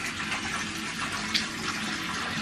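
Tap water pouring into a bathtub as it fills for a bath, a steady soft rushing splash heard alone at moderate distance.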